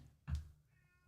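A single short meow from a house cat, fairly quiet and close, standing alone over faint room noise.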